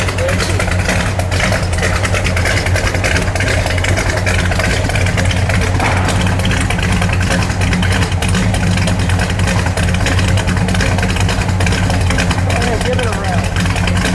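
A 1973 Buick Century Gran Sport with a 455 engine idles roughly, a loud, close, continuous rumble with a steady throb and no pauses.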